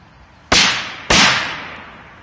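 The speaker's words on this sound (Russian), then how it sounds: "На два взрыва от золотого дракона." Two Golden Dragon firecrackers go off about half a second apart, each a sharp loud broadband bang with a short decaying tail, close by and with no talk.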